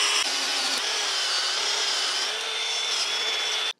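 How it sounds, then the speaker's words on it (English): A power drill with an auger bit bores through a wooden post for a farm fence H brace, a steady loud whine with grinding wood texture that runs continuously and cuts off abruptly at the end. "This is an auger bit, so it tends to pull itself through the wood."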